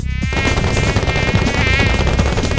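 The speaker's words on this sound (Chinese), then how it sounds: "这里怎么会有蚊子啊？" High-pitched whining buzz of a mosquito in a Chinese cartoon featuring Ultraman characters turned into mosquitoes, loud and continuous with a wavering pitch.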